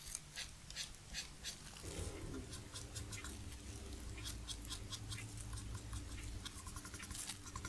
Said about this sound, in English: now we're going with the eraser.